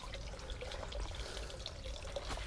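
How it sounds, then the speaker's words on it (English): Water flows continuously from an artesian well along a nature trail in a Florida national wildlife refuge, a soft, steady trickling and gurgling that stays close and quiet with no voices. "I just found an artesian well."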